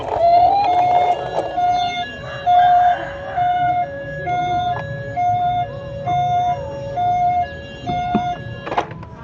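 A white toy model ambulance with red markings sounds an electronic two-tone siren, alternating steady high and low notes in a regular loud pattern, close and alone.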